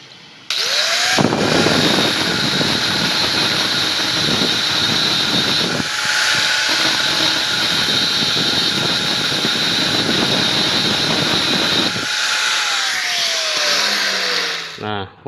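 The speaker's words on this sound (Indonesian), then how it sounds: "Ini kita gerinda dulu untuk menghaluskan." An angle grinder smooths a metal part for a homemade automatic chain tensioner on a motorcycle-engined car. It roars loud and steady at close range with a high whine throughout, then spins down near the end.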